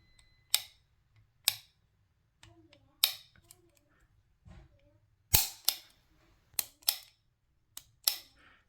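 Sharp mechanical clicks from the trigger and rear safety of a Les Baer Monolith 1911 .45 ACP pistol, about ten crisp snaps spaced irregularly and heard close up, with no talking.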